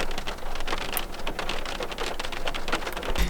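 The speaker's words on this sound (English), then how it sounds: "because it's starting to rain out, like actually now. A lot heavier than just spitting." Heavy rain pattering steadily on surfaces outdoors beside a train line, a dense continuous hiss of drops with scattered nearer splats, fairly loud throughout, with no voices.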